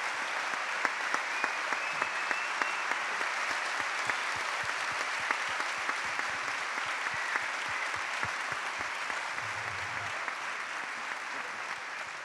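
An audience at a documentary film presentation applauds steadily, dense even clapping from a seated crowd lasting several seconds without pause.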